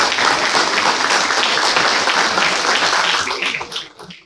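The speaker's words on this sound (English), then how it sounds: "Let's give a big round of applause." Loud, dense audience applause at the inauguration ceremony of a national moot court competition, sustained steadily before tapering off near the end.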